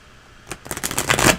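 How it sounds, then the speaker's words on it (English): Tarot cards riffle and slap together close by in a dense, rapid flurry that grows louder toward the end, with no talking. "While I'm shuffling, you can play."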